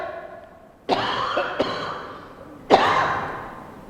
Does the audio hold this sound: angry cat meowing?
no